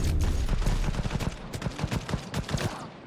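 Rapid bursts of smart gun gunfire in the video game Cyberpunk 2077, dense overlapping shots crackling loudly and continuously for a few seconds with no speech over them.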